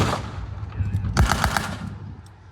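A WWII machine gun firing at a re-enactment, a short burst of about four or five quick rapid shots, moderately distant, with some background rumble.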